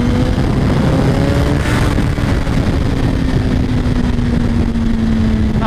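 A 2017 Suzuki GSX-R1000 sport motorcycle engine held at high revs during wheelies, a loud, close, continuous droning whine with a steady pitch under heavy wind rush.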